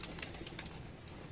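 Pigeons in a loft, some of them sick with a virus, coo softly with light wing flutters, a brief close murmur of birds with no voices.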